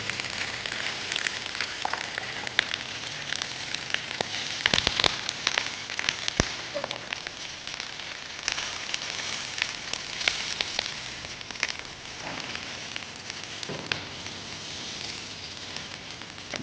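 Fish frying in oil with banana leaf for a meenkal masala: a steady, dense crackling sizzle with sharp pops throughout, close and fairly loud.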